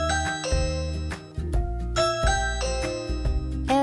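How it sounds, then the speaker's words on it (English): A Ring Chime wifi doorbell plays its ring alert, a loud, bright electronic ding-dong melody of several repeated chime tones, close and clear with no talk. "Ring alerts sound like this"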